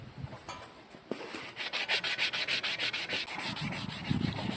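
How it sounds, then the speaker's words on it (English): A sanding block scrapes back and forth over painted bike frame in steady, even strokes, about a dozen rhythmic rasps, close and moderately loud, with no talking. "Now I will be using the sanding block, at least on this portion here"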